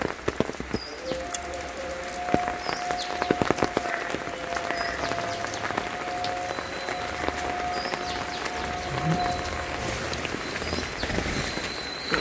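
Steady rain falling outdoors in a rural garden plot, a dense continuous patter with occasional louder drips and faint birds calling in the distance, no talk.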